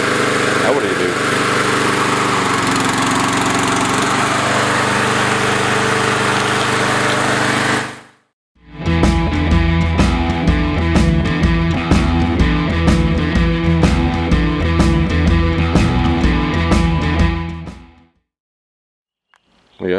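A Husqvarna push lawn mower running on old gas and refusing to shut off roars loudly up close, the engine cutting out briefly, then restarting with a rattling, pulsing beat before stopping abruptly near the end.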